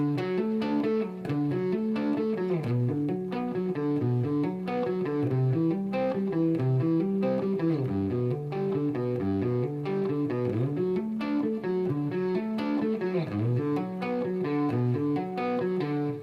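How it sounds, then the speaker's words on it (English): Slow electric guitar arpeggios with an effected, slightly distorted tone, each note picked clearly in a steady repeating pattern, no voices. "now I'll slow that down so you can hear what it is that I'm playing"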